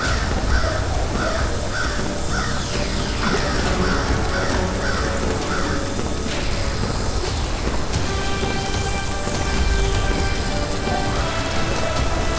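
A crow caws in a steady series of harsh repeated calls over constant rain and dense background sound, with no one talking.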